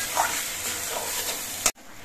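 Gobindobhog rice frying with spices in a pan, a steady close sizzle with faint stirring scrapes, ending abruptly with a brief clatter.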